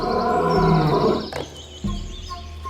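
A person vocally imitates a lion's roar, a loud, sustained low growling roar that swells, fades, then returns with a shorter second burst, heard alone at a zoo animal-sound imitation contest.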